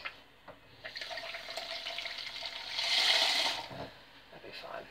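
A kitchen tap runs water into a jug, a faint, quiet trickle that grows briefly louder and fuller partway through.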